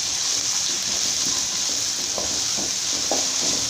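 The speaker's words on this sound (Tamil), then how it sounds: "இப்போ இது எல்லாமே சேர்த்துட்டு நல்லா வதக்கிக்கலாங்க." Sliced onions and green chilies sautéing in a hot pan, a steady broad sizzle throughout with a few light stirring scrapes of the spatula near the end, no talk.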